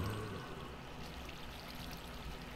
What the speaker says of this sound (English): Just give me 1 second here to place blocks and then water.